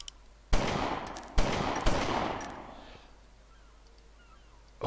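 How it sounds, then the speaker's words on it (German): Three sharp gunshots fired into the air in the video game Omerta: City of Gangsters crack in quick succession, each leaving a booming tail that fades into quiet. "er hat jetzt einfach mal in die Luft geschossen"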